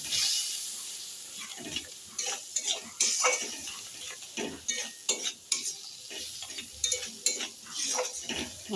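Spice paste (masala) being stirred and fried in a pan for a vola fish curry: steady sizzling under repeated scraping strokes of a utensil against the metal, close and fairly loud, with no voices.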